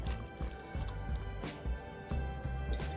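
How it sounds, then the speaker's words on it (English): Ingredients for a three-ingredient dump cake plop and squish into a mixing bowl in a run of soft, wet drips and splats, close by and without any voices. "We're gonna just dump everything into the bowl."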